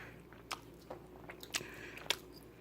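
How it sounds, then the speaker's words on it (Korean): Close-up chewing of pancakes with cream, with scattered wet smacks and soft crunches, spaced irregularly over quiet background, no talking. "쩝쩝거리는 소리 리얼 사운드가 날 거라고요"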